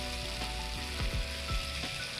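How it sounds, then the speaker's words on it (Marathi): Steady frying sizzle of onion and tomato in a pan, with a few soft scraping stirs; no voices. "एक पाच मिनटं कांदा टोमॅटो परतून घेऊया"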